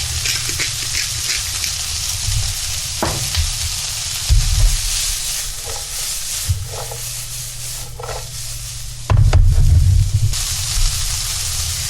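Green peppers and other vegetables for venison chili sizzle steadily in a hot pan, a loud continuous frying crackle broken by occasional stirring scrapes and louder bursts as the food is moved around.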